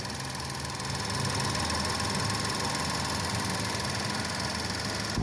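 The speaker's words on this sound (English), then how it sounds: "Okay, with the motor running," A 2012 Ford Focus Titanium engine idles steadily up close, a constant even hum and mechanical clatter that holds at the same level throughout, with no one talking.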